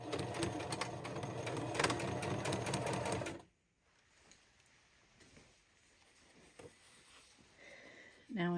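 A sewing machine stitches a satin waistband onto a circle skirt made from a tablecloth, running in a steady, close whirring burst for about three seconds before stopping, followed by faint handling noises and a brief restart at the end.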